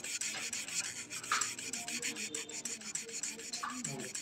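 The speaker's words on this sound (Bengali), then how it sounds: "তো এটা আমি সিরিজ পেপার দিয়া 0 সাইজ 320 নম্বর সিরিজ পেপার দিয়ে এটা আমি ঘষে দিলাম" A small sewing machine part is rubbed by hand with 320 grit sandpaper, giving quiet, rhythmic rasping strokes repeated in quick succession, close and alone.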